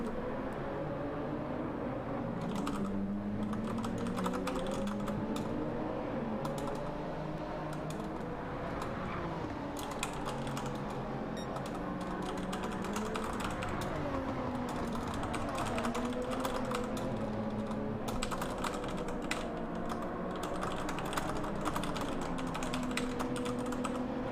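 Steady typing on a computer keyboard clatters on for over twenty seconds, close and busy, over a low droning racing-game engine hum with no talk.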